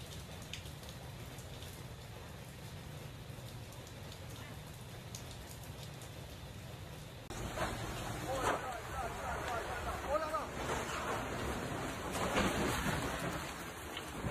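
Heavy rain pours steadily during an intense Mediterranean thunderstorm over central Italy, with a loud rumbling wash that swells partway through into denser downpour with crackling thunder; no speech is heard.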